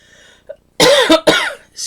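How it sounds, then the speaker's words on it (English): A few sharp, loud coughs close by, two quick bursts after a brief pause, with nothing else around them. "Excuse me while I go and cough and sneeze"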